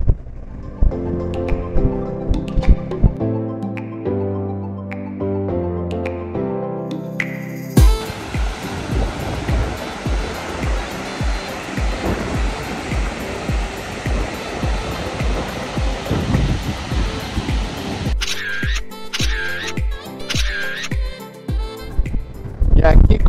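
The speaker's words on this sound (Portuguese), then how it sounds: "nosso primeiro riozinho da Patagônia" Rushing water from a small Patagonian stream near the Andes runs steadily and loudly for a long stretch, with music before it and voices talking near the end.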